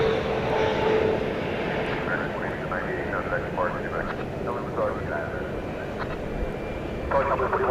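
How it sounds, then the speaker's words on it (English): At night at DFW Airport, a Boeing 777-300ER airliner flies in with a steady, broad engine roar, loud and constant throughout, while a voice talks over it. "We have a 777 coming in."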